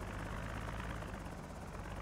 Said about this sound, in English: The helicopter is passing by right now.